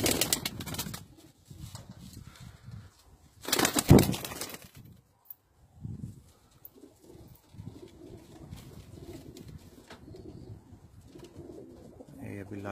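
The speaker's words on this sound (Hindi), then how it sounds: "यहाँ पे कुछ इनके ब्रीडर कबूतर है मेरे पास, वो मैं आपको दिखा देता हूँ।" Breeder pigeons on a rooftop coo softly and intermittently, with a burst of wing flapping early on and a few more flutters, while quiet background noise and light movement sounds run through.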